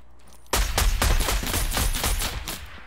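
Rapid automatic gunfire from an automatic sniper rifle in a Fortnite-style battle game, a dense loud burst of repeated shots that starts abruptly and runs continuously to the end.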